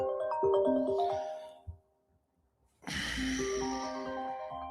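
A mobile phone rings during a live broadcast, a melodic ringtone of repeated tonal notes that stops for about a second, then starts again alongside a burst of rustling noise, close and fairly loud.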